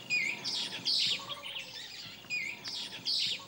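Birds chirp nearby along the Mekrou River, a tributary of the Niger, in short bright bursts, repeating in a loose rhythm over a quiet outdoor background.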